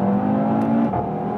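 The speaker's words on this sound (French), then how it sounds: "on a un moteur ultra présent, une bonne sonorité dans la voiture" An Audi TT RS engine hums steadily with a sustained drone, then its pitch shifts as the revs change; heard from inside the car, no talking.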